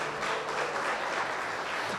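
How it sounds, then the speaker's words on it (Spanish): A church congregation applauding, a dense, even wash of clapping filling the room, steady and fairly loud with no voices on top. "Denle un fuerte aplauso al Señor por la correíta"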